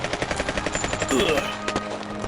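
Rapid machine-gun fire as a sound effect in a Thai-dubbed manga action scene, a loud, steady burst of repeated shots that continues with a brief swell of added noise partway through.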